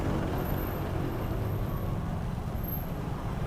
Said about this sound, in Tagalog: Traffic naman talaga dito, di ba?